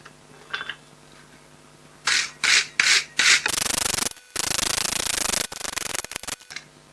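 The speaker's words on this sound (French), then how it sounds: "Un bon coup de brosse." Stiff wire brush scrubbed over a freshly forged, flattened metal piece at a forge, in several short rasping strokes followed by longer continuous scraping bursts, close and loud with no talk.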